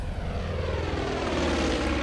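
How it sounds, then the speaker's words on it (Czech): Propeller airplanes in Far Cry 5 pass close and loud, a thick droning engine roar that holds steady and builds slightly over two seconds. "Ty vole, letadla."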